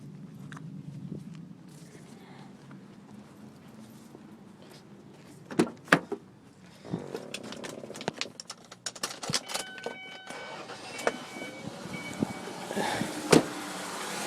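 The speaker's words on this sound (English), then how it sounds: "I'm gonna start this car." A car with a catalytic converter back pressure problem and low engine power cranks over and starts, then idles steadily with a few sharp clicks and clunks close by.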